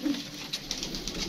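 Desi pigeons coo on a rooftop loft, soft repeated throaty calls close by with no talking.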